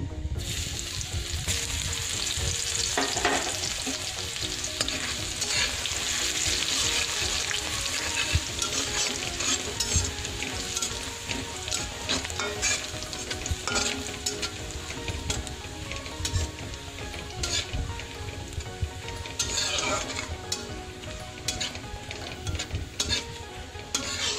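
Garlic frying in hot oil with panch phoron for a tomato chutney, a steady loud sizzle with frequent stirring scrapes throughout, no voices.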